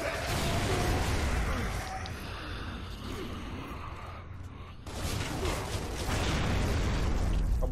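Two heavy explosions go off in Gears of War 3, loud booming blasts with rumbling debris, the second arriving after a brief lull.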